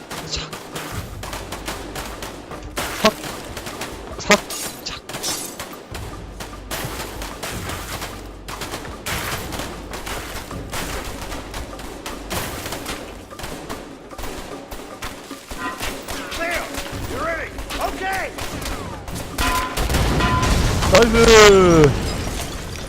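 Gunfire in the video game A Way Out: rapid bursts and shots crackling through a dense, busy game mix, with a person talking and laughing over it and a louder stretch of action near the end.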